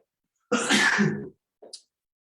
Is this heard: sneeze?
yes